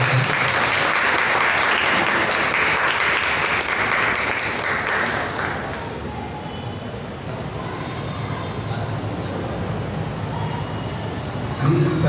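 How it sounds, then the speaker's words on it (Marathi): An audience applauds to welcome guests at a Marathi community function. Dense, sustained clapping fills the whole stretch, easing slightly in loudness halfway through but continuing steadily to the end. "सर्वांनी टाळ्या स्वागत करतो"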